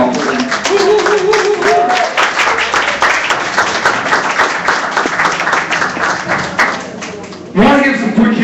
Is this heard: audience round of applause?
yes